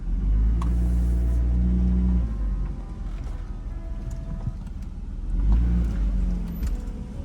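A BMW 325i engine idles with a low steady rumble that dips briefly, then swells again as it is revved lightly, heard close with faint rattles and no talking.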